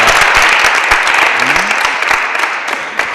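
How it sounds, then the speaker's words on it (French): Applause from an audience at a youth choir Christmas performance, a dense steady clatter of many hands clapping, loud and close, with a voice briefly heard over it. "On va l'applaudir très fort"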